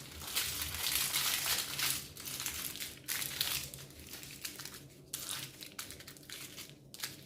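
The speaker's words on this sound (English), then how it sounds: "I just get a bigger piece of aluminum. Then you fold it like this." A large sheet of aluminum foil being folded neatly for wrapping homemade vegetable stock cubes, with sustained close crinkling and crumpling that comes in bursts separated by brief pauses.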